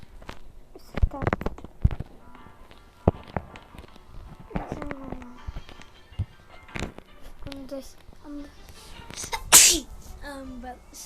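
A single loud, sharp sneeze bursts out near the end, surrounded by scattered clicks, taps and soft speech while children play at cooking burgers.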